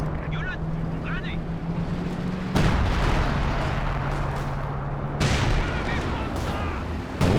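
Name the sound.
howitzer artillery fire in video game Company of Heroes 2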